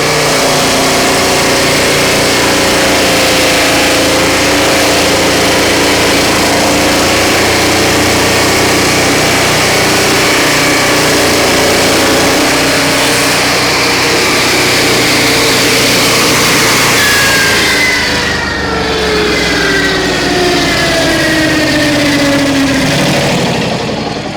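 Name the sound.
Turbosawmill engine and blade cutting a knotty log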